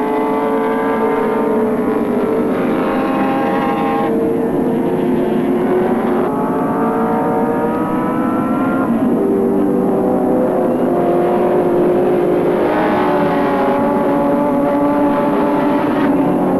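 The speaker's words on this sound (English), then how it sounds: "Peter Brock now through Castrol Curve" Touring race cars at Oran Park in a 1984 championship race roar past one after another, engines rising and falling through gear changes in a loud, continuous stream with no talk.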